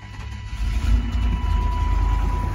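A car engine with heavy blow-by runs rough at idle, a loud, uneven low rumble with a faint steady whine above it, close and continuous.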